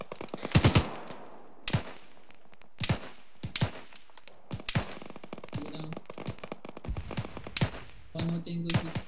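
A grenade launcher fires in Operation El Magico, sharp separate booms spaced a second or two apart, with scattered impacts and some background rumble.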